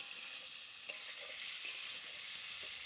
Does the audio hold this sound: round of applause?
no